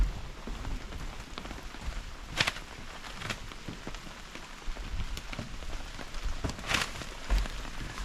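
Steady rain patters on a tarp and camping gear at a rainy-day campsite during a heavy-rain advisory, a constant close hiss broken by a few louder drips, with no talking.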